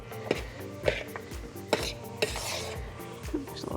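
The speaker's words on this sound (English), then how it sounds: "I just want to kind of mix everything together to get it evenly incorporated" Couscous salad with chopped vegetables and seasoned tomatoes being tossed together in a bowl: a steady run of close scraping and clinking utensil strokes, with several sharper knocks spaced through the stirring.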